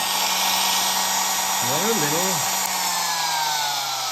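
A 1935 Vidal & Desoutter Wolf Cub electric drill whines at a steady high pitch, running continuously up close, with a brief voice murmuring partway through.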